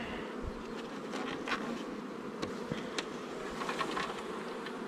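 Dense honeybee hive noise as the colony begins to swarm, a steady close buzzing drone of many bees with no pauses and no talk.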